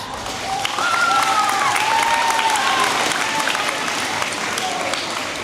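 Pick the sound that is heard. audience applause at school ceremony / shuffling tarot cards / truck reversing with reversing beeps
audience applause at school ceremony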